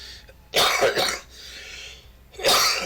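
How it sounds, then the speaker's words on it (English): Two harsh, loud coughing fits close to the listener, each a rough burst about half a second long, separated by a quiet wheezy breath. "Pardon my coughing."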